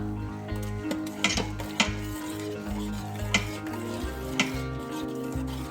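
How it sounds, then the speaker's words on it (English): Masala being stirred into cooked dal in an Instant Pot, with repeated rhythmic scraping and clinking of a spoon against the metal pot over a low simmering bubble. "Just stir it and give it another 1 minute to cook, and let masala get nicely done with the dal."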